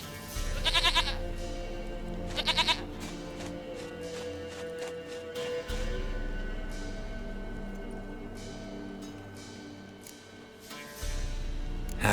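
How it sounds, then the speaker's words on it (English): A goat bleats in The Witcher 3, with two short, close, wavering bleats early on over a low game ambience hum. "Goat of mine, dearest, sweetest goat."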